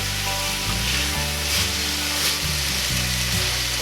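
Ground meat with spices and tomato paste sizzles and fries steadily in a pot for Disneyland-style chili, a loud continuous crackle with occasional stirring scrapes and no voices.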